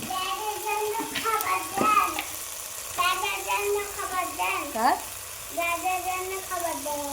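Ginger, garlic and cumin paste with spices fries in oil alongside onion, a continuous sizzle under a voice talking throughout.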